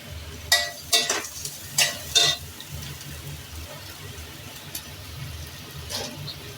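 Ginger goes into a pan of fried onions for a potato shrimp curry, giving a soft, low sizzle with several short scraping bursts as the mixture is stirred.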